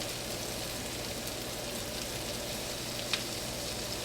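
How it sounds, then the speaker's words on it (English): Onions sizzle in hot olive oil in a pan, a steady, even crackling fry that holds at the same level throughout with one small pop near the end, close and without talk. "So in goes my onions to the olive oil."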